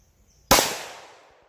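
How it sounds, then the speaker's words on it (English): One loud, sharp gunshot from a 5.7 caliber firearm cracks after a brief quiet, then its echo fades away over about a second. "So she's definitely shooting faster than a 22 mag."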